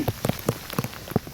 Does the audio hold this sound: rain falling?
yes